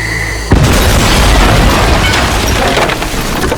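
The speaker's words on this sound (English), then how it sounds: "Kaboom!" A loud explosion in the video game Red Dead Redemption 2 booms suddenly after a short quiet lead-in, then fills the rest of the moment with a sustained, rumbling blast and debris wash.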